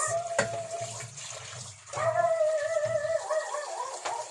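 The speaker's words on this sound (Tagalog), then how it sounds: "dalawang hugas natin ng ating talbos guys" Running tap water splashes steadily into a sink as leafy vegetable shoots are rinsed and jostled under it, close by, with a brief whistling tone partway through.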